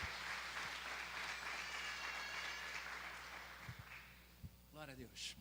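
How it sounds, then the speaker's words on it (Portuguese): Applause from a church congregation praising the Lord fills the space steadily at moderate level, thinning toward the end with a few sharper individual claps and a voice coming in near the close. "Vamos dar uma linda salva de palmas ao Senhor em nome de Jesus."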